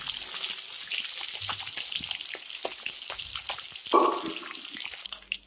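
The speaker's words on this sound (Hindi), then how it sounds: "तो मछली के पकौड़े को हम अच्छे से ऐसे पका लेते हैं।" Fish pakoras made from garai fish fry in hot oil, a steady close bubbling sizzle with scattered pops running throughout, plus a brief louder clatter near the end as the pieces are handled.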